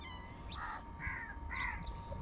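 Crows cawing, several harsh calls in separate bursts, some close and some farther off, over steady low background rumble, with no talk.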